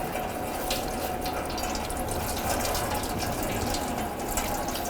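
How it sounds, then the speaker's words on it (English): Coolant draining from a radiator hose on a 2006-2011 Cadillac DTS, a steady close splashing stream of liquid running without a break. No voices. "Slide it off. And let that coolant drain."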